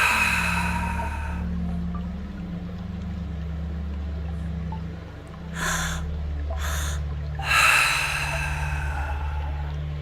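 Slow, deep breaths during seated meditation, heard close as long airy inhales and exhales with a low steady rumble beneath and sharper breathy bursts toward the end.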